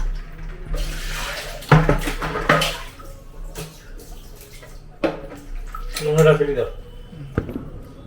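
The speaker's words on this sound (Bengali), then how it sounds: "জল চার সাইডে জল দেখুন মগ দিয়ে দিচ্ছে" Water is scooped and poured with a mug inside a water tank during cleaning, making a series of close splashes and sloshes in an echoing space while voices talk throughout.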